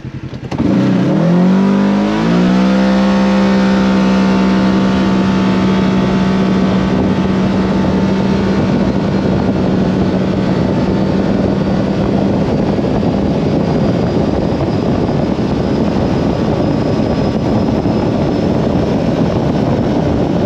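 Kawasaki KRX 1000 side-by-side on 35-inch tires with a stock tune, belt and clutching, launching hard on a timed run: engine revs sweep up quickly, then hold a loud, sustained drone with heavy wind noise for the rest of the run.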